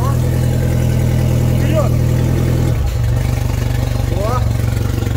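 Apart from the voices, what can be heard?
Solar jet boat engine revving, cooling water from exhaust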